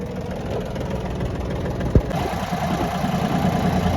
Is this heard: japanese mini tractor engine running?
yes